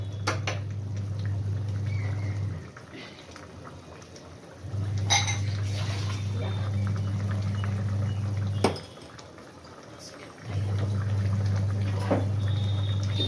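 A fish kaliya curry with garam masala is stirred in a pan over a steady low hum, with a few soft scrapes and clinks of the spoon between quieter gaps.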